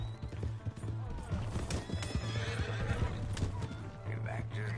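Horse in a PS4 video game neighing and whinnying amid steady clip-clop hooves, loud and continuous throughout, with game dialogue voices talking over it.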